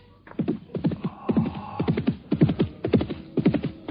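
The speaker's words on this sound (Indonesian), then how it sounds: "Aku mendengar derap kuda menuju kemari." Galloping horse hooves in a radio drama, rhythmic clusters of thudding beats repeating steadily and fairly close, with no talk over them.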